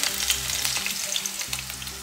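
Onions sizzle steadily in a hot pan, a continuous close crackling hiss with faint stirring scrapes, no voices.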